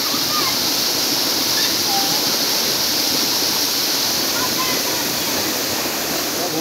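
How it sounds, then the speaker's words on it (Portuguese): São Daniel waterfall at the top of a mountain range in Ceará, Brazil, roaring as a steady, loud broadband rush of falling water that fills the whole clip without pause. "E vamos curtir aí um pouquinho essa cachoeira maravilhosa aí."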